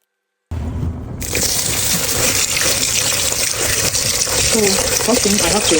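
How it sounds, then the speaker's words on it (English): Tap water runs steadily into a bowl of rice being washed for Nigerian fried rice, a loud continuous gush of splashing water that starts abruptly and keeps going with rattling grains and clatter underneath. "I have to wash the rice until the water runs very clean"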